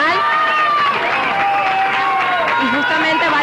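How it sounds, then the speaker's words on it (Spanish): Party leaders stand and applaud a candidate arriving at Venezuela's National Electoral Council: crowd clapping and cheering mixed with excited voices, with a person talking over it. "todos los dirigentes se han puesto de pie para aplaudir al candidato"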